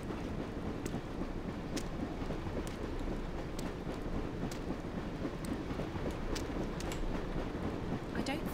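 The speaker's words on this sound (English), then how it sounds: "we just have to wait until the train is like going past." A train rolls past in the game Dreamfall: The Longest Journey, a steady, loud rumble with scattered clacks and rattles throughout, continuous and unbroken, with no talking.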